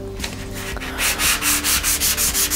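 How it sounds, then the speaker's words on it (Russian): Fine P500 abrasive sanding dried 1K nitro putty, with rapid close back-and-forth rubbing strokes in an even rhythm of about six passes, loud and without speech. "давайте попробуем ее обработать абразивом пятисоточкой файном"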